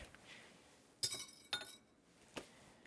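A whisk knocks against a bowl of cream flavored with cinnamon and nutmeg, making about three quiet, sharp clinks spaced apart against a faint background.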